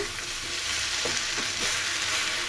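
Leafy greens fry in a pan for a Mandya-style upsaaru. The sizzle is a steady, even hiss with a few soft stirring knocks, and no voices.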